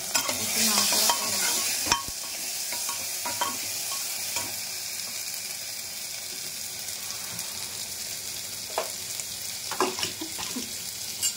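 Food is stirred in a cooking pan with chilli and cumin powder while it sizzles, a constant frying hiss broken by occasional utensil scrapes and taps against the pan.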